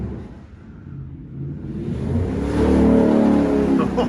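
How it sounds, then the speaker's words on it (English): A car revs hard during burnouts in a car park beside a wrecked Mustang, its engine climbing from a low idle into a loud, sustained roar that builds and holds close by. "Do some more burnouts."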